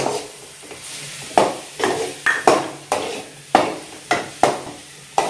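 Turmeric, chilli powder and garam masala are stirred and sautéed in a pan, a series of sharp scraping strokes against the metal at an uneven rhythm over a low, continuous sizzle, close and fairly loud.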